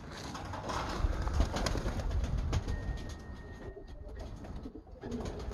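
Pigeons cooing on a loft roof in the USA as young birds are released, soft low coos repeating over outdoor background, nearby and without talk.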